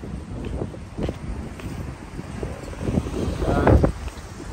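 Gusty outdoor wind buffets the microphone in steady low rumbling waves, swelling stronger near the end, with a few faint knocks and noises in the background.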